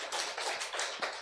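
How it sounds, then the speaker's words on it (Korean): A church congregation claps together in praise after a sermon, a dense roomful of hands with swelling bursts of applause, fairly loud and filling the space with no speech over it. "우리 하나님께 박수 올려드립니다"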